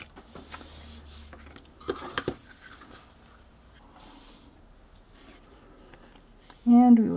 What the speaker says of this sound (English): And we'll just fold them both over.